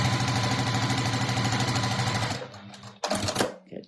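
A sewing machine stitches quilt pieces with a fast, steady mechanical hum and rapid needle chatter for over two seconds. It then stops abruptly, followed by a few scattered clicks and handling noises.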